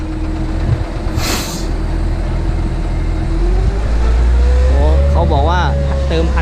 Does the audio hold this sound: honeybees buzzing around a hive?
no